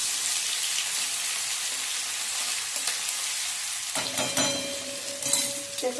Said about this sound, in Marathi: मोहरी तडतडली की ही जे मिरचीचं वाटण आहे, आलं लसूण आणि मिरची, हे मी त्या फोडणीत घालणार आहे.